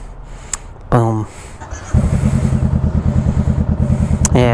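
Honda Rebel motorcycle fitted with a Shorty GP exhaust idling close by, a loud pulsing low rumble that kicks in partway and holds steady, with brief louder bursts and a voice speaking over it.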